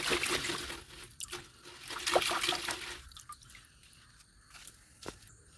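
Freshly picked homegrown spinach being washed in water: close splashing, trickling and squishing as the leaves are swished about, then fainter drips and small splashes after a pause.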